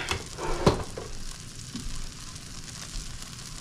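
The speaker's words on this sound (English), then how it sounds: "I have a medium high heat, a little bit of butter in there." Butter sizzles in a pan over medium-high heat with a soft, steady frying hiss and a few brief clatters, all fairly quiet, with no one speaking.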